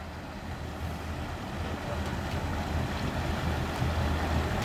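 A Regal 3060 Window Express cruiser with twin Volvo 5.7 engines runs on the water, giving a steady low engine drone mixed with hull and water wash, continuous and moderately loud with no voices.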